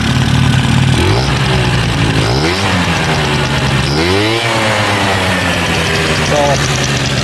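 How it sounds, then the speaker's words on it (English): 1993 Honda Elite SR 50 scooter engine running with its carburetor missing the breather, a loud nearby idle with crackling and several blips of revving rising and falling. "it makes a lot of crackling noise because of this carburetor ain't got the breather on it"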